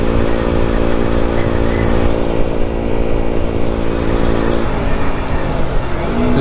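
A KTM Duke 125 motorcycle fitted with an aftermarket Akrapovič exhaust with a dB killer runs steadily and loud, its engine drone constant throughout, with a slight rise in revs near the end.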